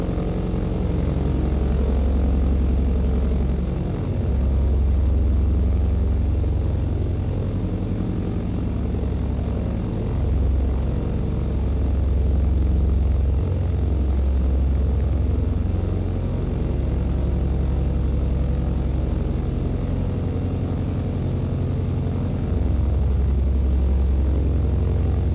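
A small propeller aircraft's engine drones steadily at high power during a windy takeoff in Microsoft Flight Simulator 2020, loud and continuous with slight swells in pitch and no talk over it.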